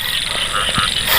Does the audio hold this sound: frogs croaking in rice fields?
yes